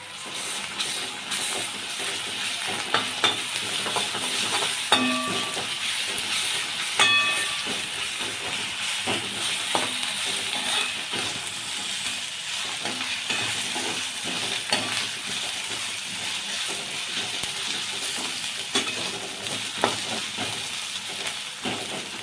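Onion with ginger-garlic paste fries in a pan for chicken pota masala, producing a sustained steamy hiss punctuated by frequent spatula scrapes and stirs, close and continuous.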